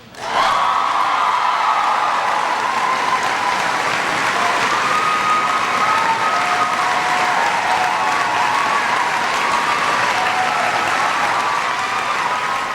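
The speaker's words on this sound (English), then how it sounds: "It was hysterical applause." Loud, sustained applause from a large audience, a dense wash of clapping that holds steady throughout with no pauses.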